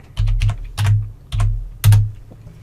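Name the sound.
typing on a computer keyboard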